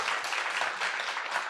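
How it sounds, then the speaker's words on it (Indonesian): Audience applause at a book launch event honoring university students, dense steady clapping from a crowd filling the whole moment with no voices on top. "Tepuk tangan untuk Anda semua."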